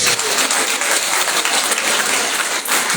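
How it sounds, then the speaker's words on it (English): Audience applause at a school's 80th-anniversary lecture event, a dense, steady clapping from a sizable crowd that holds evenly for about three seconds with no voices on top. "A round of applause"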